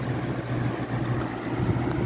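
A Holmes box fan runs at close range with a continuous, even whooshing hum and a low motor drone, steady throughout with no speech.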